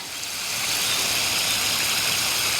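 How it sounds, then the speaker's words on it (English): Water pours steadily from a hose into a garden planting hole for a shrub, a loud continuous rushing and splashing that swells slightly in the first half-second and then holds even, with no voices. "I'm just going to fill up this hole pretty much completely with water"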